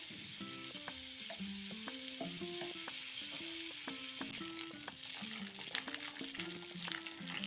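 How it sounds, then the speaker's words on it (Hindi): Butter and desi ghee heating in a kadhai, a soft, even sizzle and hiss under quiet background music, with no talk. "मैंने बटर डाल दिया है। अब इसमें हम देसी घी डाल देंगे।"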